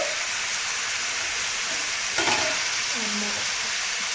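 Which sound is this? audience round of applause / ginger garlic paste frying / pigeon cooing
ginger garlic paste frying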